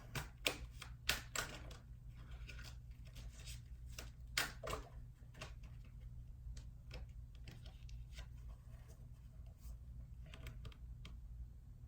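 Tarot cards being shuffled by hand, a run of crisp papery riffles and snaps clustered early, then lighter flicks scattered over a steady low hum, close and fairly quiet.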